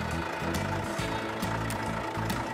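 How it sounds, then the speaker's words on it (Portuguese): A concrete mixer truck engine idles with a steady, rumbling low hum that runs without a break. It carries faint rattly vibration and short bursts of brighter noise, and no one speaks. "É um caminhão betoneira."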